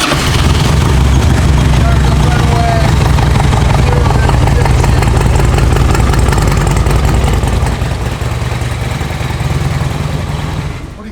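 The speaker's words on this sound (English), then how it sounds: "listen to this thing just fire up right away" A 2005 Harley Davidson Road King motorcycle with low mileage fires up and idles, a loud, close, continuous low rumble that throbs steadily and eases slightly near the end.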